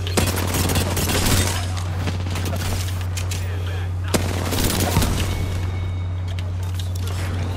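Rapid gunfire crackles through a busy video game firefight, dense bursts layered over a steady low hum, with someone talking over the shots.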